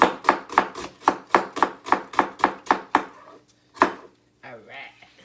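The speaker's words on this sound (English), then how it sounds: "we're going to just be doing slices of onion" A knife slices an onion thinly on a cutting board while cabbage soup is being prepared. About a dozen crisp, close chops fall in a steady rhythm, then a pause, one more cut, and a brief soft voice at the end.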